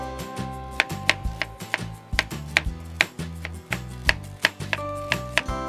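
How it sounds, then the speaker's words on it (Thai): A knife cuts peeled ginger into thin slices on a board, making crisp, evenly spaced chops in a steady rhythm close by, over soft background music. "จากนั้นก็เอามาหั่นเป็นชิ้นบางๆครับ"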